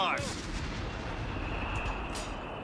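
Rifle and mortar fire in Company of Heroes 3, a booming blast with a rolling decay opening the clip, then a lower rumble and faint distant shots, mid-distance battlefield ambience.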